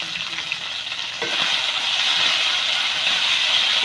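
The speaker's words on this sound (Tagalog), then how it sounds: "At isusunod ko na rin yung kamatis. Ayan, igisa ko lang yan. At igigisa ko na yung giniling na corn beef." Ground corned beef and tomato sauté in a hot pan with a loud, close sizzle that swells after the first second into a steady hiss, with faint stirring scrapes underneath.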